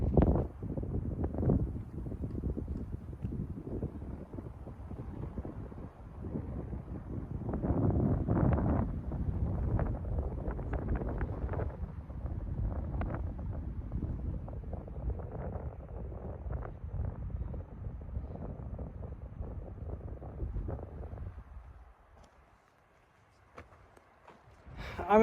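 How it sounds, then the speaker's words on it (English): Strong, continuous wind buffets the microphone with a heavy low rumble in open desert terrain along the Arizona Trail, easing only briefly near the end. "When I'm out in the open, it's really, really windy"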